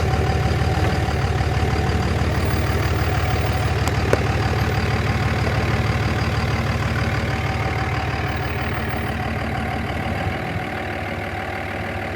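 A vehicle engine drives over a Hexmag magazine, a loud, steady close rumble with no talking that eases slightly toward the end.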